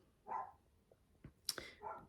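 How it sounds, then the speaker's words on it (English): Dogs bark outside, a few separate barks and yips at a distance, faint and spaced apart in a quiet room. "So excuse the barking."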